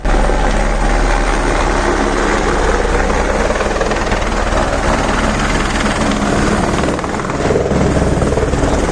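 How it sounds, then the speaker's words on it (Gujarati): A helicopter at a Kedarnath helipad roars loudly and close by, with a constant heavy rotor and engine wash filling the clip without a break. "આ જે તમને હું દ્રશ્ય બતાવું છું એ હેલિકોપ્ટરનું છે"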